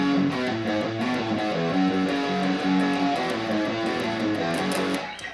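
Electric guitar plays the main riff of a song, a fast, steady run of distorted, palm-muted notes repeating throughout at moderate loudness, with no voices.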